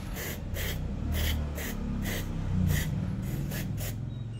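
Kobe CVT throttle body cleaner sprayed onto a motorcycle throttle body in repeated short hissing bursts, about eight quick spritzes, close and moderately loud.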